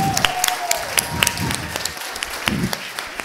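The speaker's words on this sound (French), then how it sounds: "une bonne main d'applaudissements aux parents et familles qui endurent leur petite diva." Audience clapping at a French-language performance event, a moderate round of applause with scattered sharp claps and some voices mixed in.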